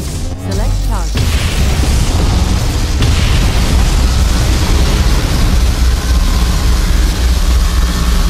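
A particle cannon strike in the C&C Generals Evolution strategy game erupts into a loud, sustained explosion, a dense roaring blast that holds at full intensity for several seconds after a brief sharp onset.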